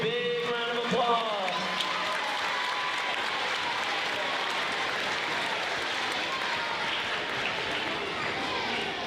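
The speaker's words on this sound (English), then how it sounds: "Let's give our MAP Growth Award winners a big round of applause." A school awards ceremony audience gives sustained applause for award winners, a dense crowd of clapping that stays loud and even throughout, with a voice speaking briefly over its start.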